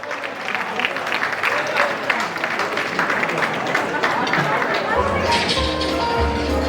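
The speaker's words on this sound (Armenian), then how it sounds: "մյուսներին էլ խնդրում եմ, որ բարձր ծափարենք ծնողների համար յուրահատուկ" Wedding guests applaud the couple's parents in steady, dense clapping that fills the room from start to finish, with a voice over it and a low musical tone entering near the end.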